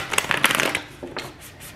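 A deck of tarot cards is shuffled up close, giving a quick burst of rapid papery riffles followed by a few softer card taps.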